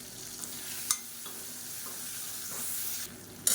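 Tomato and onion sautéing in a pan for mango kulambu, a soft even sizzle with a couple of sharp utensil clinks standing out above the quiet frying.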